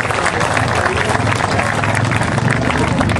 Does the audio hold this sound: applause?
yes